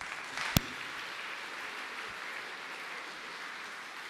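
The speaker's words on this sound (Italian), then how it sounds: "E infine un applauso alle instancabili docenti Masiello, Mortella e D'Angelo." An audience gives a faint, steady round of clapping for teachers at a classical high school's evening event, with one sharp nearby clap early on.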